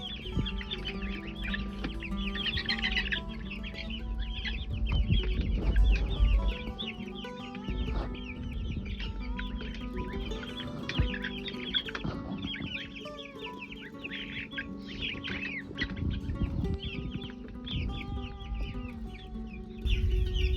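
Many free-range hens cluck and chatter continuously close by, a busy flock murmuring with occasional louder calls.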